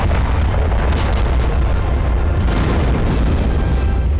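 Heavy booming blasts from drone strikes hitting factories in Odesa's industrial area at night, a dense, continuous rumble of explosions running loud throughout with no voices.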